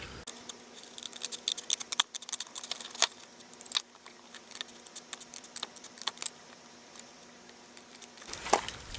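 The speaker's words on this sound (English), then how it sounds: "And then I'm going to go ahead and cut the excess off of that." Scissors snip away excess paper from a handmade card layer, a series of close, crisp irregular cuts and rustles over a quiet hum, with no talk.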